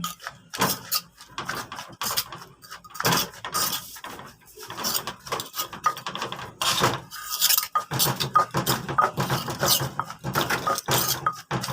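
A pestle pounds green papaya salad with dried chilies in a mortar, giving irregular knocks and clinks of close, loud strikes and stirring with short pauses between bursts.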